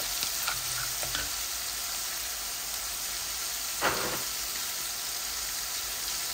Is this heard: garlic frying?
yes